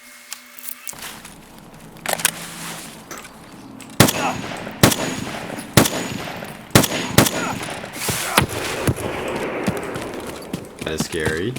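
In Escape from Tarkov on the Woods map, gunfire rings out at the outpost as loud, sharp single shots and short bursts spread over several seconds, while a voice talks over them.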